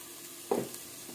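Garlic and ginger paste stirred into onions and green chillies frying in a pan gives a quiet background sizzle, then one brief, louder scrape-and-sizzle burst midway.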